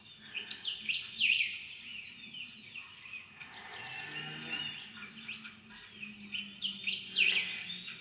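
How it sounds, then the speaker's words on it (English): Birds chirp and sing outdoors, bright repeated calls rising and falling over a soft background hum, moderately distant. "I'm going to close my eyes for a moment and just listen to the lovely birds."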